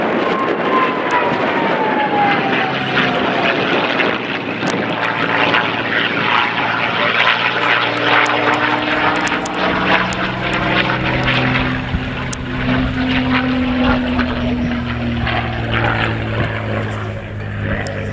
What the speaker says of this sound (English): here we see a Merlin engine Mustang.